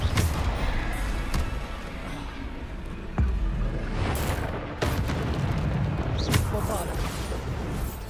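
Bombarda spell blasts in Hogwarts Legacy go off as several sharp booming bursts spread across the stretch, loud and near, over continuous rumbling game noise.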